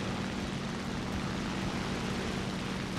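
An airplane engine in the War Thunder video game drones steadily and evenly throughout, a constant broadband roar with no pauses and no voices.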